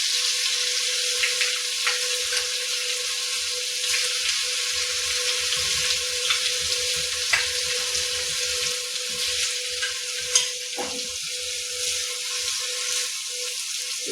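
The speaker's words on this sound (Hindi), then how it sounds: "अब इसमें 7-8 लहसुन की कली कूट करके डालेंगे।" Crushed garlic cloves fry in a pan for bread pakoda, a bright, continuous close sizzle with occasional small pops and a few light utensil taps, without any talking.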